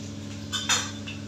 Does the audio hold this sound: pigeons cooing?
no